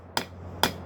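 Two sharp metallic hammer blows, evenly spaced and close, strike a steel hot cut tool edge being tapered from an old ball pein hammer, with a faint low hum between strikes.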